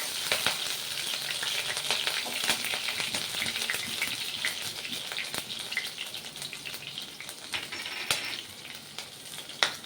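A green chili dropped into hot oil crackles and spits loudly and continuously, a close, busy sizzle while vegetable rice is being started.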